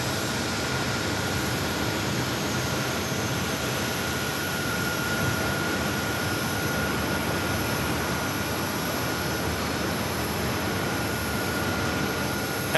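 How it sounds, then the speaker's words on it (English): A SkyWest CRJ 900LR jet taxis at Phoenix Sky Harbor airport, its engines giving a steady, moderately distant whine and rumble over broad outdoor airport noise. "that SkyWest CRJ heads out for taxi"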